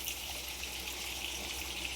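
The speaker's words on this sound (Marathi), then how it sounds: "आता याच्यात आपण पाणी ओतून घेऊ" Water pours steadily into a cooking pan for fish curry, a continuous soft gushing hiss held at low level throughout with no talking.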